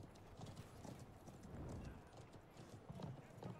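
Horse galloping during a border fort siege in Conqueror's Blade: rapid rhythmic hoofbeats clatter continuously amid battle ambience, with some voices in the mix.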